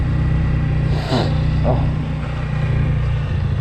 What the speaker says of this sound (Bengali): এখন অনেক বাইক হয়ে গেছে এখানে, চারিদিকে অনেক বেশি বাইক।